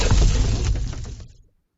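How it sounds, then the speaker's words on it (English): A short explosion sound effect bursts loudly at once, a crashing, shattering blast that rumbles and fades out within about a second and a half. "I think that's an explosion."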